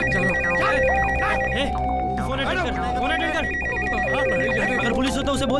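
A telephone rings in a Hindi comedy film scene, its steady electronic ring repeating for several seconds beneath overlapping voices and background sound.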